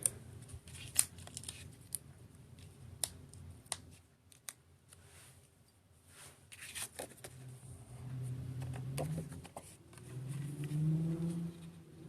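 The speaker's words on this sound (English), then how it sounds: "I can hear somebody racing down my street" A car races down a residential street outside, a faint distant engine swelling in the last few seconds, while paper rustling and scissor snips from card-making sound close by.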